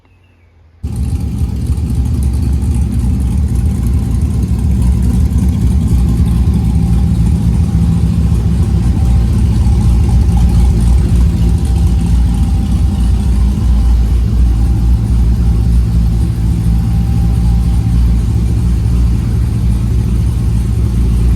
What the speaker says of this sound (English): She idles fine. She's got a nice little chop to her.